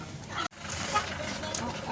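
Village chickens clucking at an outdoor village market in Inebolu, a steady mix of hen calls with some background chatter and a brief dropout partway through.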